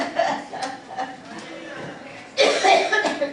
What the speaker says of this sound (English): I got my old man cough on.